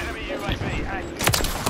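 Gunfire in the video game Modern Warfare 3 crackles in several sharp bursts that grow louder toward the end, with a player's voice talking over the shots.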